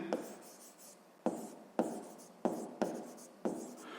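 Hand writing of a sixth-grade maths exercise, pen strokes rubbing on paper in a steady series of scratchy bursts with sharp onsets, close and quiet, no voices.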